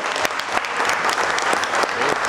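Audience at a municipal council meeting in a hall applauds steadily, a dense, loud clapping that holds throughout with no voices over it.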